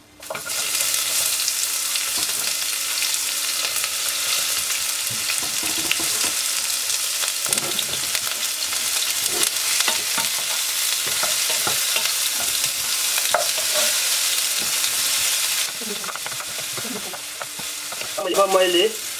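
Onion frying in hot oil for a Nepalese gundruk curry, a loud, dense, unbroken sizzle close up, with occasional stirring scrapes and a few clinks near the end and no voices.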